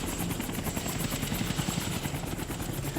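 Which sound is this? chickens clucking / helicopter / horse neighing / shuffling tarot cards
helicopter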